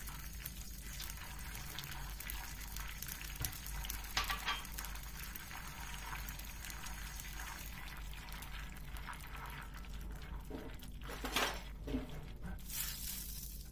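Margarine and vegetable oil sizzle and bubble in a pan while melting and frying for a walnut pastry dessert, a continuous crackling hiss with a few louder bursts near the end, heard alone without speech.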